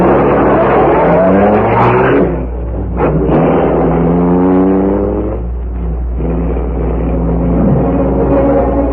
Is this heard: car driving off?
yes